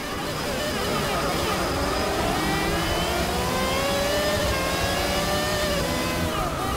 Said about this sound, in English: Man, this thing just screams, doesn't it?